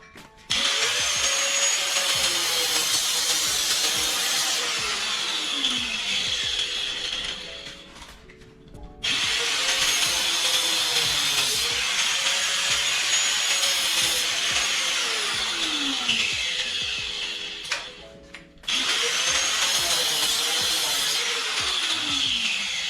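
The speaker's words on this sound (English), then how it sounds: "we'll take grinder, we'll cut the tabs off" An angle grinder cuts through the metal tabs around a bolt in three long, loud, continuous passes, with brief pauses between them; the abrasive whine rises and falls in pitch as the disc bites into the steel.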